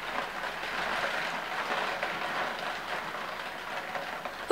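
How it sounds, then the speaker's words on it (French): A sudden shower patters on a Velux roof skylight, making a steady, fairly quiet hiss indoors that ends with a brief louder knock. "une pluie soudaine s'est abattue sur mon Velux"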